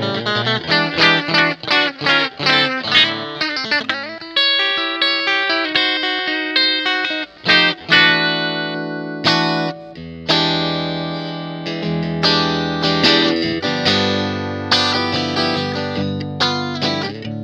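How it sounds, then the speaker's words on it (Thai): A G&L Legacy USA electric guitar playing a long run of strummed chords and riffs, moving from a clean tone into mild and then heavy distortion, loud and continuous. "ก็จะมีใช้เสียงคลีนแล้วมีแตกอ่อนๆแล้วก็เสียงแตกแรงๆ"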